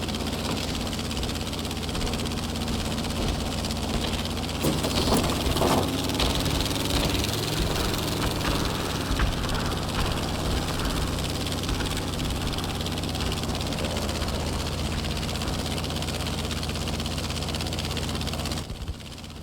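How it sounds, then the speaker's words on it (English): Steady, loud drone of a P-51 Mustang fighter plane's piston engine in Battlefield V, a continuous roar with hiss holding for nearly the whole stretch before cutting off at the end. "That's the P-51 Mustang up ahead. They called it the Cadillac of the sky. Smooth ride, powerful engine."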